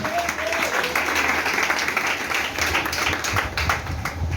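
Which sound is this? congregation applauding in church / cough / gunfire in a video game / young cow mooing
congregation applauding in church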